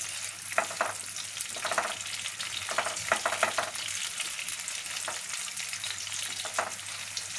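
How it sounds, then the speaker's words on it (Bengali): Onions fry in a pan, a steady bright sizzle with bursts of crackle as they are stirred, close and continuous with no talk. "পেঁয়াজটা একটু ভাজা ভাজা হোক"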